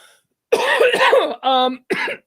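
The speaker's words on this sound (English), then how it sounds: "Sorry, I'm coughing." A few short, harsh coughs close to the microphone, followed by a brief voiced throat sound, with no other noise around them.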